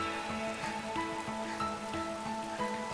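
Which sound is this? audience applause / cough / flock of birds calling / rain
rain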